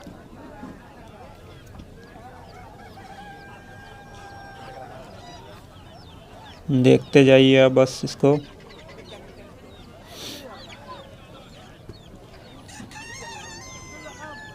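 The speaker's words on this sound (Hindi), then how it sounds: "और देखें ये नेक्स्ट आगे मुर्गियाँ, गाड़ियों में भी मुर्गियाँ, कबूतर रखे हुए हैं।" Fowl at an open-air bird market in Abu Araish, Jazan, Saudi Arabia, with one loud, harsh crowing or honking call bursting out briefly amid ambient chatter while someone talks nearby.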